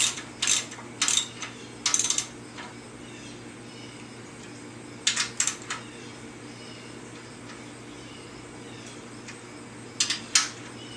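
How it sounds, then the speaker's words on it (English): A ratchet tightens wheel bolts in three separate bursts of quick, crisp metallic clicking, each a couple of seconds long and spaced by quiet pauses, close up with no talking. "should tighten these bolts up"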